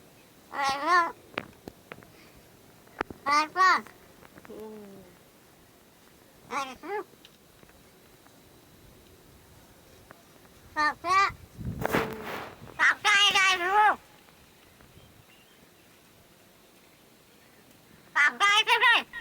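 A pet crow mimics human speech in repeated short, raspy, voice-like calls, with bursts of several syllables spread across the stretch and quiet pauses between them, close and clear.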